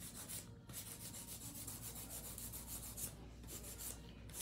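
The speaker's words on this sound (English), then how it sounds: "I save my older hand filers sometimes just so I can do it for hand filing techniques like this." A worn 100 grit hand file is rubbed back and forth across an acrylic nail, producing close, steady rasping strokes in an even rhythm with short pauses, soft and uninterrupted by talk.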